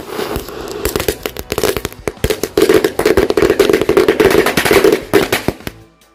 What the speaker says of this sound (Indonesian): selanjutnya kita nyalakan mercon woody woodpecker.